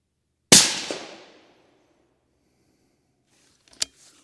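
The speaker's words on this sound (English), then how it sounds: "continue to do that until I get 3 shots in" An Accuracy International rifle converted to 6mm Creedmoor with a Proof Research barrel fires one loud, sharp shot with a fading echo tail, followed seconds later by a single brief, faint click.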